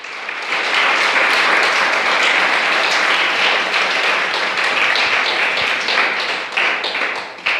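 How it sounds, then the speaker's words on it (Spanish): A church congregation gives loud, sustained applause that holds steady for several seconds and tapers slightly at the end, with no talking over it. "¿Alguien puede darle un fuerte aplauso al Señor?"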